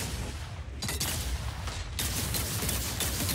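Gunfire in the mobile game Super Mecha Champions fills the clip with dense, rapid volleys of shots and booms, loud and continuous, with heavier bursts near the middle and end.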